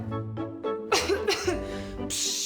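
A few short, harsh coughs close by, interspersed with voiced throat noise and a breathy burst at the end.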